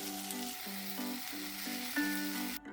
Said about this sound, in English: Turn the tomatoes upside down and sear them till they are beautifully charred but not burnt.